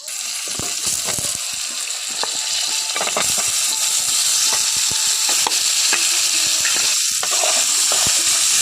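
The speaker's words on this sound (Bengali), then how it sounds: "আলুগুলো দিয়ে আবারও একইভাবে আমি ভেজে নেব তো কুন্দলিগুলো" Potatoes and kundri (ivy gourd) with turmeric frying in a pan in a Bengali-style dish, a steady sizzle broken by repeated scraping stirs of a spatula, close and clear.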